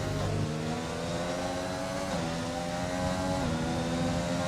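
A racing car engine from a racing video game at the Brazil round drones loudly and steadily on track, pitch stepping up through gear shifts with harmonic whine; no voices.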